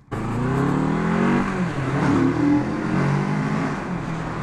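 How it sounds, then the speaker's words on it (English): A 2016 Kawasaki Z650 motorcycle engine revs hard and steadily, a loud, continuous rising drone with no talk over it. "it sounds nice when you're revving"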